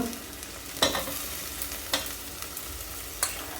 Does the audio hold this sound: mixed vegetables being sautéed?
yes